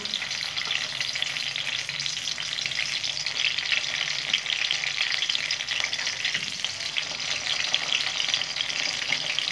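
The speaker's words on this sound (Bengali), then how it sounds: "এখন আমি বেগুনগুলো লাল লাল করে ভেজে নেব।" Brinjal pieces fry in hot oil with a loud, continuous sizzling hiss and fine crackle, close and unbroken, with no voices.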